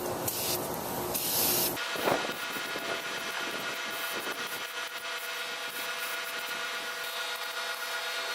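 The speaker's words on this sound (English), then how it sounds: "You really need to spray it from every angle so you don't miss any spots." An aerosol can of engine cleaner sprays onto a car engine, opening with a loud, close hiss for about two seconds before settling into a steady, softer spray that continues to the end.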